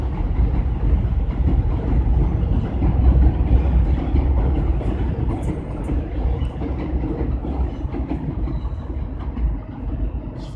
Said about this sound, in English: Fucking train, man.